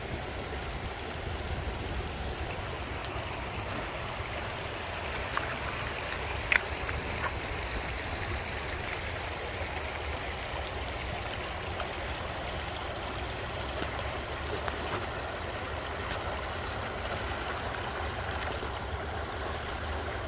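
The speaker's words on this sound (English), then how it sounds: "it's also so nice listening to the sounds of the river and how beautiful it is" A river flows over rocks in a steady, broadband rush of water that stays constant and fairly soft throughout, with no voices and only a faint click or two.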